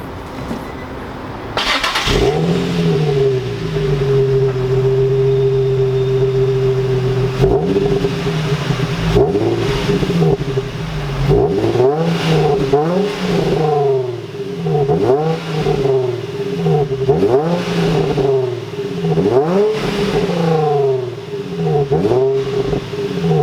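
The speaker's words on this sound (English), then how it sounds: "I'm gonna show you guys some exhaust clips of stock form, and that'll give you guys an idea of how it sounds stock" A Nissan G35 on its stock exhaust starts up and idles, then is revved repeatedly in short, loud blips that swell and fall back, close by with no talking.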